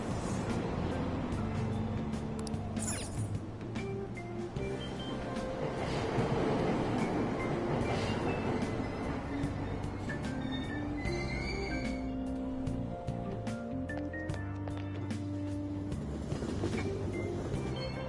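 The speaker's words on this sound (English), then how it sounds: "Platform number 2, service to Asakusa is departing soon." A subway train in the Persona 5 Royal video game rumbles and whines as it departs a station, a steady loud mechanical drone with rising tonal hum and rattling over about eighteen seconds.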